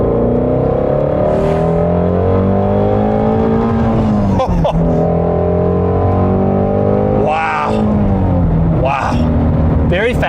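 A Ford Mustang Shelby GT350R's engine roars loud and close at high speed, its pitch sweeping up and down through gear changes, with a person talking over the interior drone.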